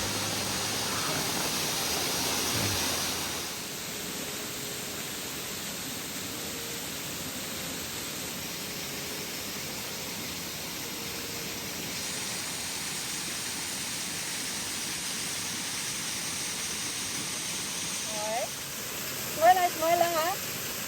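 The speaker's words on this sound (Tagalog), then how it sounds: "Ito pala yung Puting Bato Falls" Puting Bato Falls on Mount Hamiguitan roars as a steady broadband rush of falling water throughout, with a voice briefly heard near the end over the constant noise.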